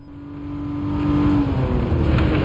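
A car engine in Gran Turismo 7 accelerating hard up a steep hill, its drone building steadily in loudness and holding a strained, sustained roar.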